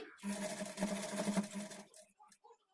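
A sewing machine stitches a kurti seam in a brief, quiet run of rapid needle clatter lasting under two seconds before stopping, followed by faint handling noises.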